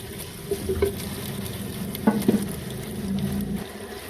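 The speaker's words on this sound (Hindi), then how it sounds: "आधे टमाटर और सब्ज़ मिर्च डालकर मज़ीद 2 से 3 मिनट इसे भूनेंगे" Tomatoes and green chilies fry in oil for a chicken and potato curry, giving a soft, even sizzle with a couple of brief clinks of a spoon against the pan and no talking.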